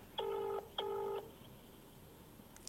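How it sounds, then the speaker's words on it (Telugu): Phone ringback tone on an outgoing call, two clear electronic tone bursts close together followed by quiet line hiss. "ఎస్, రింగ్ అవుతుంది."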